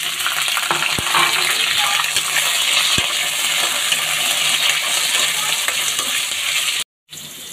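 Mango pieces frying in hot oil with a dried chilli and black and white mustard seeds, a loud, dense, steady sizzle close by with a few sharp clinks, cut off by a brief break near the end.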